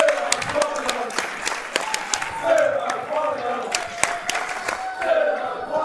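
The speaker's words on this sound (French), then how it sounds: "Ouais, c'est bon, on applaudit. Bravo." A crowd claps with scattered cheers and shouts, voices mixed in over the steady applause.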